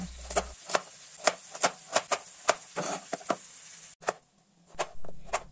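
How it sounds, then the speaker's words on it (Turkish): Potatoes and carrots being chopped on a board: a steady series of sharp, close knife strikes at an even rhythm with a short pause near the end, no talking. "İki tane de patates doğradık"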